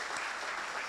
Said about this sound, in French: Mesdames et messieurs, on applaudit très fort.